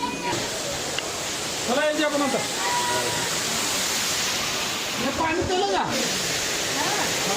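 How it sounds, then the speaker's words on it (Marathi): Water pours down at a waterfall near the Tirupati temple, a loud, constant rushing hiss close by. Someone talks over it at intervals. "इथलं तर पाणी पडासलंय, ठीक आहे, पूर्ण कसा आवाज यायला लागलाय"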